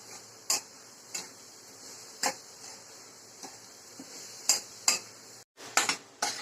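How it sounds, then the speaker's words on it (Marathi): Coconut barfi mixture with sugar being stirred in a pan, sharp metallic clinks of a spoon against the pan at irregular intervals over a quiet, steady background hum. "आता याला साखर टाकून असं सतत ढवळत राहायचं"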